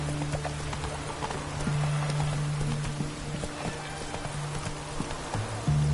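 Hooves of Roach, the horse in The Witcher 3: Hearts of Stone, clip-clop in a steady rhythm at moderate volume, over a low ambient game hum with a sustained tone.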